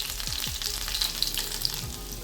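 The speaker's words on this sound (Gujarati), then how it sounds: "ત્યારબાદ એમાં આપણે આખું જીરું નાખશું. અને આ રીતે મેં લસણની કટકી કરી અને રાખી છે તો લસણ નાખશું." Whole cumin seeds and chopped garlic frying in hot oil, a dense, continuous sizzle with a few faint scrapes, close and steady throughout.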